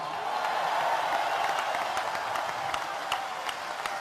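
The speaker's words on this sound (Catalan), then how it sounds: "No m'aplaudigueu" Audience at a political speech in Barcelona applauding steadily, a dense, continuous wash of many hands clapping from a large crowd, without spoken words.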